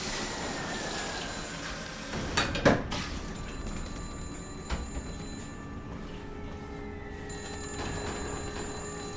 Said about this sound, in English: Y'all better answer your phone.